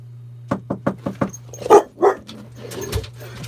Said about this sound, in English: I'm going to go knock on the boat and listen to what she does